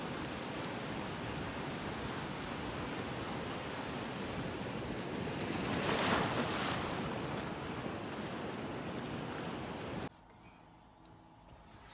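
Sea surf at a beach heard as a broad, steady roar of breaking water with a swell near the middle, then dropping abruptly to quiet near the end; no voices.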